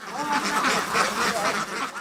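Ducks at a duck-rearing operation in Rajshahi quack in a loud, continuous, overlapping chorus that stays close and steady throughout.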